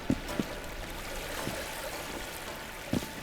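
Water flows steadily through a built water system in the survival game Enshrouded, a continuous faint stream-like trickle with a few brief louder splashes near the start and end.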